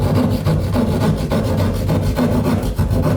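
Drywall being cut by hand for a bathroom fixture, a rhythmic rasping saw stroke repeating back and forth about four times a second, close and loud.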